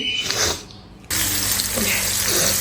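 Cut eggplants are rinsed in a sink under a running tap: a brief muffled rustle, a short lull, then water abruptly gushes loud and steady until the end.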